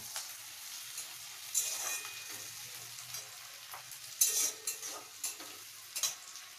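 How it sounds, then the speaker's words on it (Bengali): Quiet frying of onions in a pan until lightly browned, with soft sizzling and occasional scraping stirs; brief louder scrapes come at irregular intervals. "পেঁয়াজটা একটু হালকা লালচে ভাজা হয়ে গেলে"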